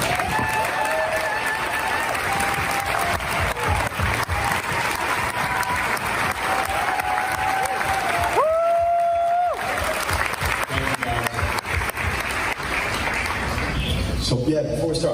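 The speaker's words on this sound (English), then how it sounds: "so we can give you a round of applause" An audience applauds steadily for the people in a film at a UFO disclosure screening, continuous clapping and some cheering across the whole stretch, with a brief dip near the middle.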